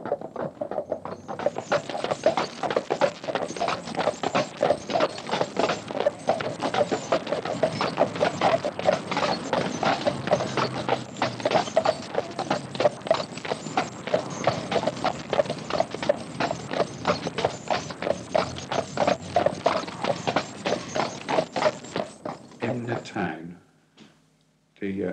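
Hooves of the horses pulling a brewery dray clip-clop in a steady, continuous rhythm for over twenty seconds, close and fairly loud, with a voice talking over much of it before the sound stops abruptly near the end.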